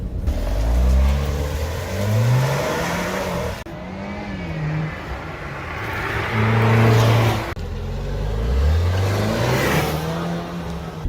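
An Alfa Romeo Giulia engine revs to high RPM in three distinct surges, each pitch climbing and falling back, loud and fairly close with no talking.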